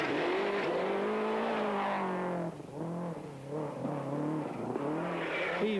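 A Mazda 323 rally car pushed hard on a forest rally stage in Finnskog, engine revving high and steady with brief dips as gears shift, heard fairly close and alone.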